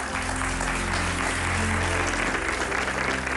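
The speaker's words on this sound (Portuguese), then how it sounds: "Peço um aplauso para os dois." A Portuguese television studio audience applauds two guests, a dietitian among them, on a talk show. Continuous clapping runs the whole few seconds over a sustained musical bed.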